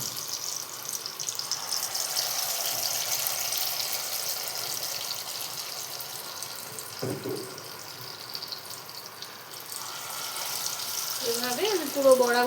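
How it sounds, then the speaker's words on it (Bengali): Pumpkin lentil fritters (kumro dal bora) fry in hot oil with a steady, close, broad sizzling hiss that swells slightly toward the end, where a voice briefly comes in. "তেলটা গরম হয়ে গেছে, এবার এগুলো আমি বড়াগুলো এর মধ্যে ভেজে নেব।"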